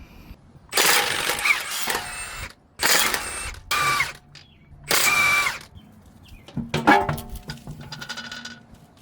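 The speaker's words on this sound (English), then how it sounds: "To begin, we have to open up the lug nuts." Lug nuts on a 2016 Mercedes CLA 250 wheel are loosened with a power tool ahead of a tie rod change. Several loud, close bursts of whirring and rattling come with short pauses between them, and a clattering burst follows.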